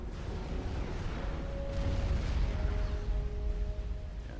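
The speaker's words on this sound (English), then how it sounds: "The ACU goes up in flames in the ion explosion from the Cybran ACU" Ion explosion of a Cybran ACU in a real-time strategy game, a steady low rumbling roar with a faint tonal hum running through it, sustained and moderately loud with no talk.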